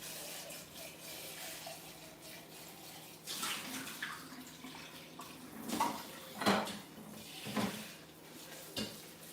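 Tap water runs steadily into a blender container being rinsed in a kitchen, a low continuous splash with a few louder sloshes and clinks of the container, fairly quiet and close.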